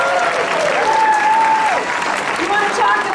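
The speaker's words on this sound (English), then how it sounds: "of applause for Senator Lisa Curtis" An audience at a Democratic political event in New Mexico breaks into steady, loud applause, a dense wash of clapping that carries through the whole moment, with a voice faintly audible over it.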